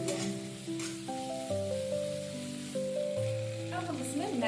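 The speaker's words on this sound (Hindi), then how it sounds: "देखिए मसाला कितनी अच्छे से भुन गया है।" Masala with soy sauce fries in a pan for Maggi noodles, a steady sizzle sitting under loud melodic background music for the whole stretch.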